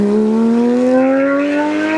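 A 2016 Porsche GT3 RS with a naturally aspirated engine revs close and loud, its pitch climbing steadily toward high RPM in one sustained scream without speech.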